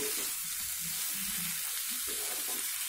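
Pieces of fish are gently stirred into onions frying in a pan for a mango and fish curry, giving a steady, close sizzle with soft stirring scrapes and no voices.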